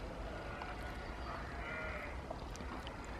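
Sheep bleating out in an open field, a few faint, distant calls rising over steady wind-like outdoor background noise.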